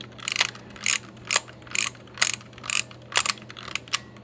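The film advance on a Robot3 toy-grade three-lens plastic camera is wound repeatedly, each stroke a crisp close ratcheting burst of clicks at a steady rhythm, with no voices.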